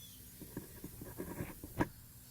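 Pen or marker scratching across gasket material being marked out for a thermostat housing on an 856 tractor, a few short faint strokes with one sharper scrape near the end, quiet and close.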